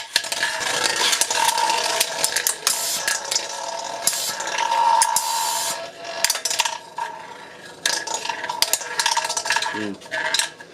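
Metal Beyblade spinning tops clashing in a homemade arena built to throw sparks, with rapid rattling scrapes, sharp metallic clicks and whirring grinds in irregular bursts, separated by short pauses, close and fairly loud with no speech.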